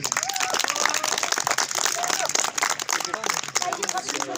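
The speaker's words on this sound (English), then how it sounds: "give a round applause of these all participants and the students" Students applauding participants at a school maths race, a steady wash of clapping from a crowd that runs throughout, with voices and chatter mixed in.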